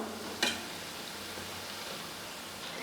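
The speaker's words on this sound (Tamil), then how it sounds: "நீங்கள் எண்ணெயில் போட்டு ஃப்ரை பண்ணி எடுத்துக்கோங்க" Bonda made from idli batter fries in hot oil, giving a steady soft sizzling hiss that fills the whole stretch. One brief sharp crackle comes early on.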